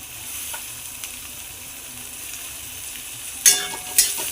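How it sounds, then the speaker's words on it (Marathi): Capsicum sautés in a pan with browned onion, giving a soft, even sizzle that builds into two sharp, bright bursts of frying near the end. "कांदा लालसर झाल्यानंतर मध्ये शिमला मिरची घालावी. शिमला मिरची पण छान परतून घ्यावी."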